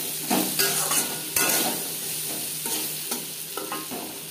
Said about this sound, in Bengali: তিন 4 মিনিট কচু ভেজে নেওয়ার পর